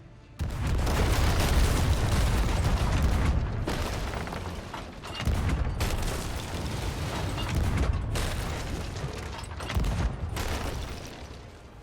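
Ship cannons firing in the pirate game Sea of Thieves: loud, booming, rumbling blasts that fill the scene, with several heavy bursts separated by brief drops in level.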